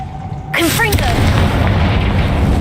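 A loud booming blast of the Confringo explosive spell in Hogwarts Legacy, a sudden burst followed by a sustained rumbling roar, with a brief voice just before it.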